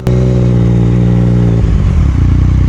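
A motorcycle engine revs loudly and steadily up close, its throaty drone shifting to a rougher, sputtering tone partway through.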